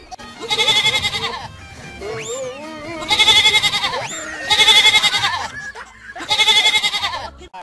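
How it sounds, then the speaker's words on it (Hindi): A goat's bleating played back from a mobile phone loudspeaker, four long wavering bleats spaced a second or so apart, fairly loud, with faint voices between them. "हादी जल्दी से बकरे की आवाज लगा दो मोबाइल से।"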